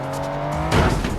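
A crash from an exotic Italian car, an Enzo, in a racing video game: a steady engine drone with whine tones gives way to a loud burst of impact noise and scraping.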